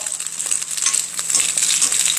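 Garlic scapes stir-frying in a hot pan give a steady close sizzle, with a faint stirring scrape now and then and no talking.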